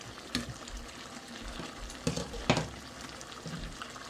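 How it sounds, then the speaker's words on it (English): A pot of Jamaican brown stew chicken bubbles and sizzles on the stove, soft irregular pops and blips close by, with a few louder bursts over a quiet simmering hiss. "Brown stew chicken pot bubbling."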